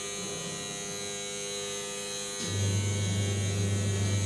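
An automatic interlock tile making machine hums steadily in a Punjab factory, then shifts to a louder, deeper continuous drone partway through, with no voices over it.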